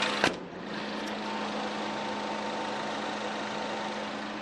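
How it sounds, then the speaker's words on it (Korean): A Lincoln premium diesel SUV with low mileage idles after the hood is shut, a quiet, smooth, steady engine hum with a soft tonal drone, opened by a single sharp thump. "디젤 SUV에서는 경험하기 힘든 조용하고 정숙한 승용 세단 같은 엔진 소음 기대하실 수가 있습니다"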